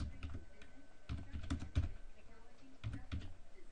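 Fingers tap an IP address into a computer keyboard, producing close, quiet clusters of rapid key clicks with short pauses between groups.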